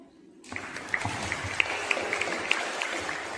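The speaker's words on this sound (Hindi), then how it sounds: "तेजिंदर के इस सफलतम प्रयास के लिए एक बार और तालियां" Audience applause at a school Hindi Diwas celebration for a student's performance, steady clapping that starts abruptly and continues evenly, with a few sharper individual claps standing out.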